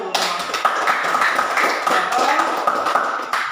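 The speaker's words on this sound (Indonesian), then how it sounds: "tepuk tangan dulu untuk kelompok 1" A classroom of students applauds a presenting student group, a dense patter of many hands clapping steadily for several seconds with murmuring voices mixed in.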